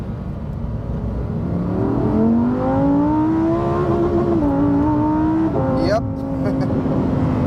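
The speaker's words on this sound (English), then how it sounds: "I just want to see if it will actually redline in the Trofeo mode." A Lamborghini Huracan STO in Trofeo mode on an ordinary public road revs hard toward redline, its engine note climbing steadily and loudly before a sharp shift cut, with talk heard over the engine.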